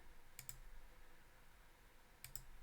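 Two pairs of crisp computer mouse clicks while working in Fusion 360 CAD software, one double click near the start and another near the end, quiet and close with a faint background hum.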